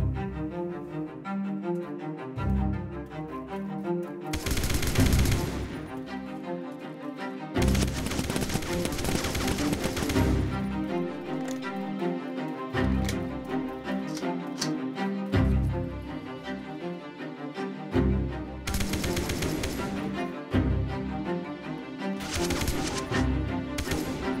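AK-47 gunfire in the Roblox game Lone Survival: rapid automatic bursts repeating over a busy mix of clattering game sounds, loud and close, with several heavy volleys standing out.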